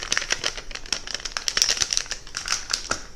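Aluminium foil folded and rubbed down along mirror edges, giving rapid close crinkling and scratchy rubbing strokes in a dense, busy rhythm with no talking.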